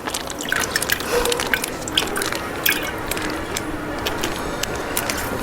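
Packaged milk pours from two packets into a jug, giving a continuous liquid splashing and trickling with small drips and soft clicks, steady and close throughout with no talk.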